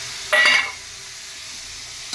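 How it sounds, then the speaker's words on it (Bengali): Mixed spice paste hitting a hot wok, one sharp loud hiss burst lasting a moment before quickly fading to a faint low sizzle. "গোলানো মশলাটা দিয়ে দিলাম"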